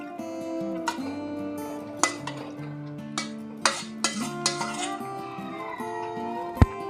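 Drained macaroni being stirred into white sauce in a pan, with a spoon scraping and clinking against the metal in scattered sharp taps over a faint, steady tonal background.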